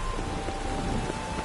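Steady rain pours during a storm in The Witcher video game, a dense continuous hiss with low rumbling beneath, no voices.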